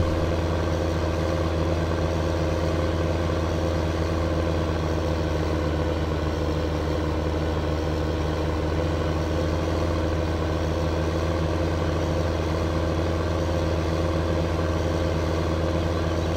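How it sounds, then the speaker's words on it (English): Tractor engine in a farming video game, a steady mid-pitched drone with a low rumble, constant and fairly loud throughout with no voices. "Let me grab this tractor real quick. I'll take a minute to drive it over there"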